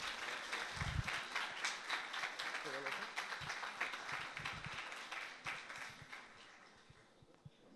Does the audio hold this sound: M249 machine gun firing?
no